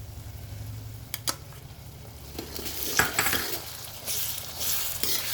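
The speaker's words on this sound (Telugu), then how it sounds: "బాగా ఫ్రై అవ్వాలి ఇది." Diced mango frying in oil for mango pulihora, stirred now and then in a pan: a steady sizzle with scraping utensil strokes and a few sharp clinks of spoon against metal, close and alone.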